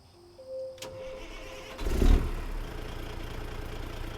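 A Detroit Diesel DD60 engine in a Kenworth K100E cab-over truck in American Truck Simulator cranks and fires with a deep rumble, then settles into a steady low idle.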